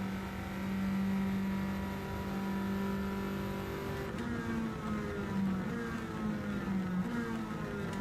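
Race car engines in the Gran Turismo 7 racing game, including a Corvette passing alongside, with a droning whine that shifts pitch as engines rev and ease, fairly steady and moderately loud, no speech.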